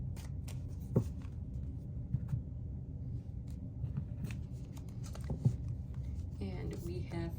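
Tarot cards are shuffled quietly by hand during a pick-a-card reading: soft papery riffles and a few light taps, faint and close, with no talking.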